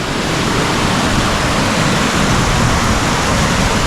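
Heavy rain and water pouring down onto a camera tripod in the wooded glen of Pucks Glen, a dense, constant, loud roar of spray with no break and no voices.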